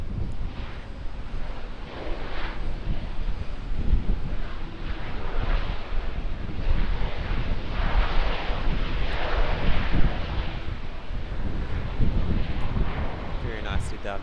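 An airplane arriving at Auckland Airport from Queenstown gives a steady, broad roar mixed with gusty wind noise, holding at a fairly even loudness for the whole stretch and swelling slightly near the end.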